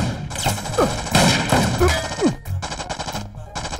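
Gunfire in a Telugu action movie scene, dense loud bursts of shots and impacts with whooshes, fast and chaotic, heard alongside score and effects.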